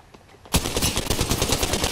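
Sustained automatic gunfire from a player's weapon in Apex Legends erupts suddenly, loud and close, with rapid evenly spaced shots that continue without a break.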